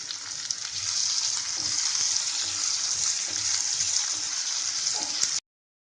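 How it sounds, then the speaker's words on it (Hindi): Onions frying in a pan with cumin and coriander powder, a steady close sizzling hiss with faint stirring, running evenly for about five seconds before cutting off. "अब डाल देंगे प्याज और प्याज को ब्राउन कलर आने तक भूनेंगे।"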